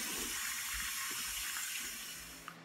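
Water runs steadily from a faucet on a rooftop, a continuous broad hiss and splash with no talk, tapering slightly near the end.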